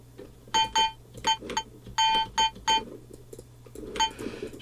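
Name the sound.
bell sample layered in a trap metal beat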